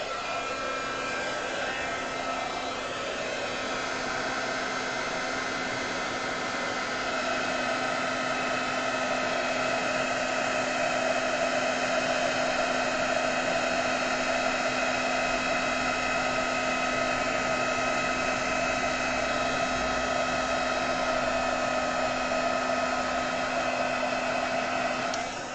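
A heat gun blows steadily while embossing powder is melted on a floral card, a loud continuous whirring hum with a constant airy hiss that holds for the whole stretch, with no talking over it.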